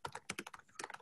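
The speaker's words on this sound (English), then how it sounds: "Your keyboard." Quick clicks of computer keyboard typing, a rapid irregular run of keystrokes, close but quiet, with no voices.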